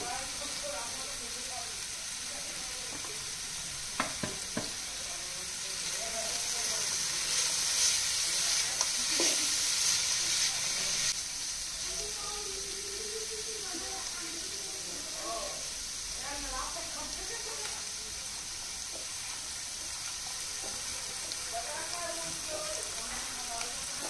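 Bitter gourd fries in a pan with turmeric powder and a splash of water, a close, continuous hiss and sizzle with occasional stirring clatter that swells louder for a few seconds midway.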